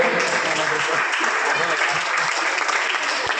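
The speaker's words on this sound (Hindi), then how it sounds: "आप लोग जोरदार तालियों से स्वागत करेंगे।" A college audience at a cleanliness campaign ceremony gives loud, sustained applause to welcome an honored guest, dense clapping that fills the room without pause, with some voices beneath.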